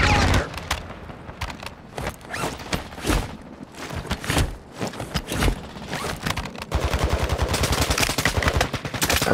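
Gunfire from Call of Duty: Modern Warfare II in a ranked Warzone 2 match: loud irregular shots early on, then a sustained rapid automatic burst toward the end.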